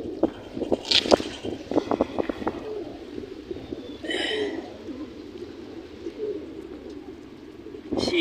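Racing pigeons in a loft cooing in soft repeated bursts, with a few sharp flutters and handling noises close by, a brief breathy rustle in the middle and faint voices in the background.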